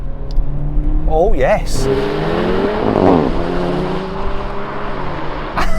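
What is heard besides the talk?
VW Golf GTI Clubsport, Civic Type R, Megane Trophy rolling drag race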